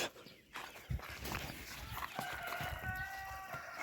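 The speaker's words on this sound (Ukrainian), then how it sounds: "Вон уже кури позабігали." Chickens cluck and murmur softly nearby amid light scuffling footsteps, with a distant rooster crowing faintly in the background.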